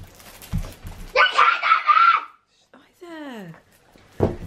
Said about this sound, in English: It's way too early for people to be screaming.